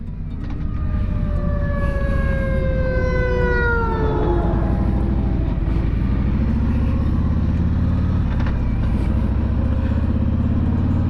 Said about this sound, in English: got an ambulance, fire truck, something coming here